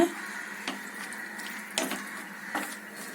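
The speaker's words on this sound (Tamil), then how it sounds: "ஒரு 1/4 லிட்டர் தண்ணி மட்டும் ஊற்றி அது முங்குற அளவுக்கு மட்டும் கொஞ்சம் ஊற்றிக்கோங்க." About a quarter litre of water is poured into a pan of spinach stem stir-fry. It makes a steady rushing hiss with a few louder splashes, close by and with no other sound around it.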